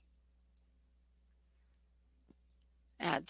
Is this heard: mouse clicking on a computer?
yes